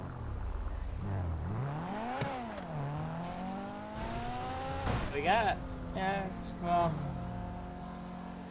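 Video game car engine revving and shifting through gears in a police role-play chase, with rising and falling pitch sweeps, a tire squeal burst near the end, and someone talking over it.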